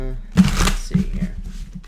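Tarot cards being shuffled by hand, a quick riffle burst followed by a few softer flicks and rustles, close up, under a speaking voice.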